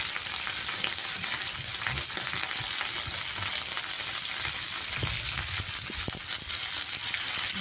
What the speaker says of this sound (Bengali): একটু ভাজা ভাজা হবে, তারপরে আমি সেদ্ধ ভাজা ভাজা মতন হয়ে যাবে